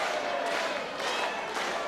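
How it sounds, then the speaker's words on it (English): A 1970s wrestling crowd at a Giant Haystacks versus Gwyn Davies match keeps up a slow, evenly spaced handclap, a few muffled claps rising from a dense background of crowd noise. "Slow hand clap for a very slow starting"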